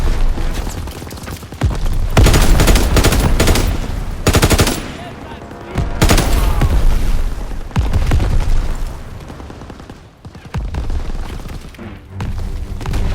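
Loud, sustained gunfire and heavy explosions in Call of Duty WWII, with dense machine-gun rattles and booming blasts that come in waves, close and overpowering, while faint voices sit under the din.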